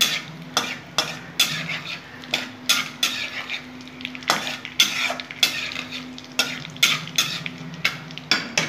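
Mace, nutmeg, cinnamon and cardamom frying in a pan while being stirred, with a steady hiss of sizzling oil broken by regular scraping and clinking strokes of a spoon against the pan, close and alone.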